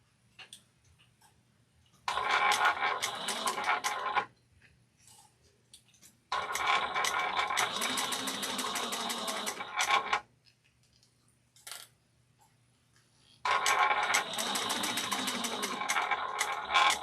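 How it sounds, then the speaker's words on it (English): A sewing machine stitches a Nora bag with an eighth-inch seam all the way around, running in three long rapid bursts separated by quiet pauses with small clicks and handling sounds, close and clear. "we're going to sew this together using 1/8 of an inch all the way around"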